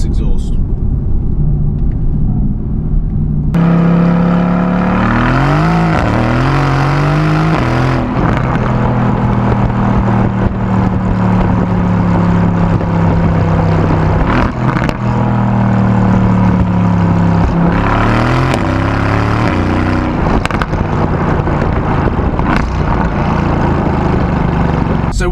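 A sports car with a sports exhaust in Sport Plus mode revs loudly, its deep engine note climbing and falling in repeated surges, with someone talking over much of it.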